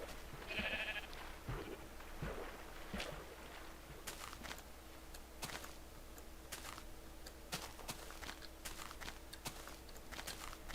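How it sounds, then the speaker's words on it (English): A loud Minecraft sheep bleat sounds close up at the start, followed by fainter in-game footsteps and light clicks against a quiet open-world ambience. "So many sheep. Look at them all over there."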